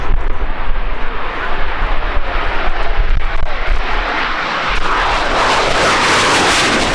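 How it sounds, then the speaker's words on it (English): A Spanish Navy McDonnell Douglas EAV-8B Harrier II Plus jet flies at the Royal International Air Tattoo 2019, with a loud, steady broadband roar and rumble that swells and shifts as it passes, and no talk. "Of the Spanish Navy McDonnell Douglas EAV-8B Harrier 2 Plus."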